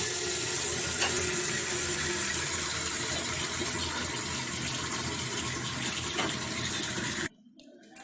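Water runs from a kitchen tap in a steady close gush for about seven seconds, with faint clinks of a vessel, before stopping abruptly into near silence.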